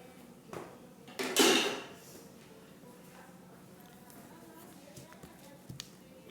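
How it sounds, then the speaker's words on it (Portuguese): An attachment is removed from a stand mixer in a home kitchen while making healthy bread dough: a couple of clunks, then a louder scraping rattle, and a soft knock near the end, under a woman's speech. "Vou tirar essa parte aqui da minha batedeira"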